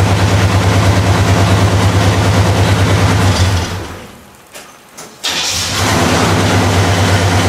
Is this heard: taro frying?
no